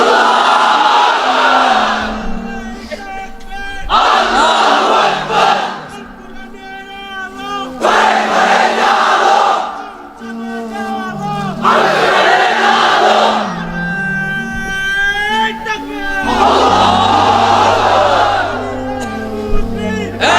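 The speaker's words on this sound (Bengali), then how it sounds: "এবার অবিবাহিতরা দাও লিল্লাহি তাকবীর।" A large crowd at an Islamic religious sermon chants the takbir in loud, repeated unison bursts with brief pauses between, the massed voices swelling and fading in waves.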